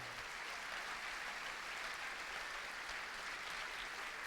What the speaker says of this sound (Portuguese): Você pode aplaudir essa palavra tremenda?